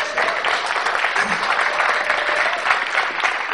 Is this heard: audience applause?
yes